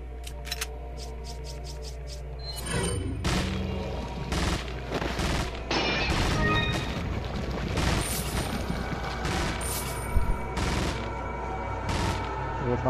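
Gunfire in the video game Resident Evil 4 Separate Ways, with bursts of rapid shots and heavier blasts over a constant low game soundtrack, no talking.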